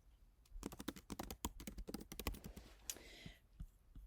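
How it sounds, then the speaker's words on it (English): Someone types on a computer keyboard, a quick run of crisp, closely spaced key clicks for about three seconds, faint and near, with a few softer taps trailing off at the end. "I'm just going to go ahead and type Akita."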